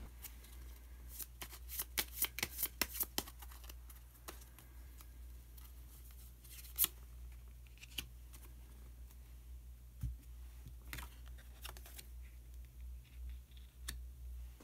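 Tarot cards shuffled and drawn by hand, close, rapid riffling clicks in a rhythmic burst, then scattered soft card taps and slides in a quiet room with no speech.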